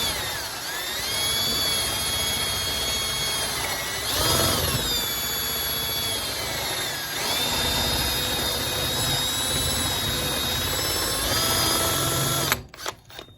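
A power drill spins a wad of Scotch-Brite stuffed in a hole saw to clean the end of a fuel line tube on a 1968 Camaro. It gives a steady high-pitched whine with slight dips in speed, running close and loud for about twelve seconds before cutting off.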